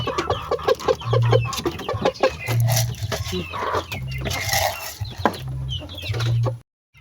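Backyard chickens and a brooding hen clucking close by in a pen, with repeated short clucks and calls in an irregular rhythm, loud and continuous, with no talk.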